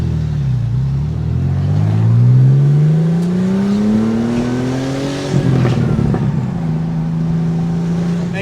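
A 1991 Porsche 964 Turbo in Zermatt Silver, heard from the passenger seat on the road, with a loud engine drone rising and falling through gears and a brief drop off the throttle midway.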